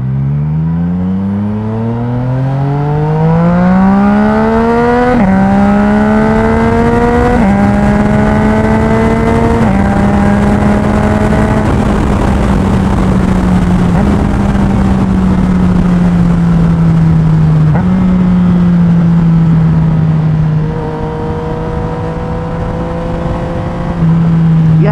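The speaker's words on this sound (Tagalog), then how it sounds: "Yamaha MT-09." A Yamaha MT-09 motorcycle fitted with an Akrapovic exhaust revs up loud and close, its engine note climbing in stepped pulls before settling into a sustained, droning tone for the rest of the run.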